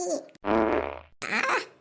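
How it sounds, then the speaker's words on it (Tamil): A loud, drawn-out fart comes in two close, raspy bursts with a brief gap between them, followed by a flappy trailing sound, all heard alone without talk. "அடியே குசுவு பிடிச்ச குந்தானி கிளவி இப்படி குசுவு விட்டுட்ட காலையிலே"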